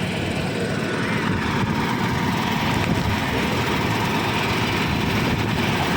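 A PMTOH bus engine idles at Bang Udin's repair workshop while its tires are checked, giving a loud, steady diesel rumble that fills the whole stretch without pause.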